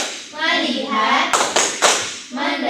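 A classroom rhythmic focus clap in an elementary science lesson: a few sharp hand claps and taps in a short pattern, close, mixed with children's and a teacher's voices speaking.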